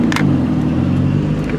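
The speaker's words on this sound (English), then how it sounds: "it's just this turbo, it takes it a while to spool up." A 1991 Honda CRX with a single-cam engine and a large, cheap eBay turbo pulls under steady acceleration, giving a loud, continuous low engine drone close by, with a brief hissy burst early on and no talking.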